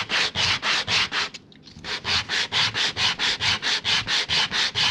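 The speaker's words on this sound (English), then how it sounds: "I'm trying to hold the sandpaper with my belly" Sandpaper rubs by hand over a turned cedar wood jug in steady rhythmic back-and-forth strokes, close and even, with one brief pause before the strokes resume.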